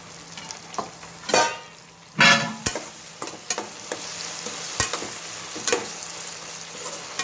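Tomato upma frying in a pan, made with peanut and sesame powder: steady sizzling with repeated scraping and clanking stirs, close and clear, with no talk.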